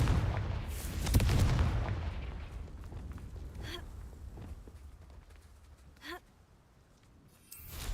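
A Confringo explosion spell goes off in a Harry Potter video game: one deep booming burst that rumbles away, followed by quieter crackles and short whooshing flares.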